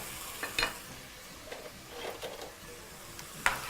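Food fries in melted butter in a pan, giving a soft, faint sizzle with a few sharper crackles and pops scattered through the quiet stretch.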